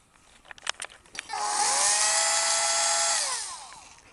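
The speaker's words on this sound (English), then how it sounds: "So I finished drilling all the way through." A drill bores slowly through glass for a homemade lamp, a high whining grind rising after a few light knocks and holding steady for about two seconds before fading away.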